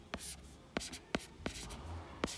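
Pen or pencil writing on paper while working a math proof, giving a few short scratchy strokes close up with brief pauses between them and no talk.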